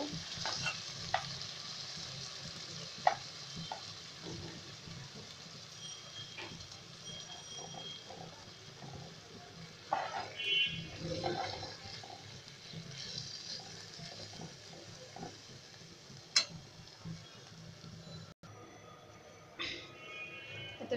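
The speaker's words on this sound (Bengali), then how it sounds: "তেল গরম হওয়ার পরে আমি মাছগুলো দিয়ে দিচ্ছি" Small puti fish sizzling in hot oil in a home kitchen pan, a continuous soft frying hiss with occasional clinks and stirring scrapes, fairly quiet throughout.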